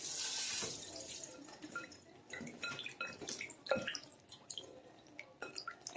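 Tap water running into a kitchen sink while the last cream of coconut is rinsed out of its container, with drips, splashes and a few clattering knocks, close by.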